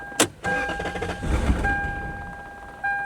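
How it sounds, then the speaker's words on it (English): A Lexus LS400 engine, abandoned for ten years, cranks and sputters, rough and loud, with a chuffing noise from a massive exhaust leak, then the motor winds down before a brief restart at the end. "And it sounds like we had a massive exhaust leak too."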